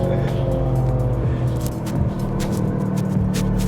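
A 2025 Mercedes CLE53 AMG with a 3-liter turbo engine and all-wheel drive is driven, heard from inside as a steady, loud engine drone and road rumble that holds throughout, with no talking.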